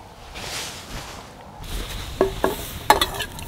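Food frying in a small pot over a campfire, a soft steady sizzle with faint stirring, then a few sharp metallic clinks and scrapes of a utensil against the pot near the end.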